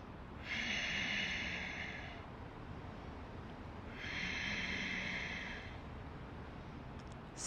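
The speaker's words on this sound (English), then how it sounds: "go ahead and do that Ujjayi breath" Slow yoga Ujjayi breaths through the nose, two long breaths each lasting about two seconds, soft hissing and airy, heard alone in a quiet room.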